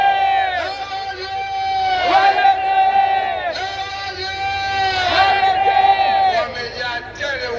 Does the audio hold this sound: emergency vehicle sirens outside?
no